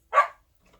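A bored pet dog gives a single short, sharp bark close by indoors, followed by near silence.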